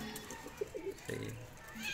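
Teddy pigeons in a loft coo softly in a few short, low, rounded calls, faint and fairly close, with people talking around them.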